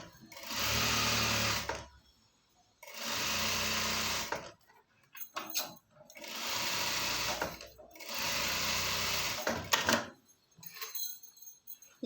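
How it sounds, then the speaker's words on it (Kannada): Sewing machine stitches along the edges of a pant waistband in four long bursts of steady whirring, separated by short pauses with faint handling noises, close and loud. "ಇದನ್ನು ಈ ಎಡ್ಜಸ್ಸಲ್ಲಿ ಒಂದು ಸ್ಟಿಚ್ ಹಾಕೋಣ"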